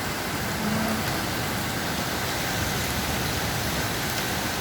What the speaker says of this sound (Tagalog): Pumasok ang ulan.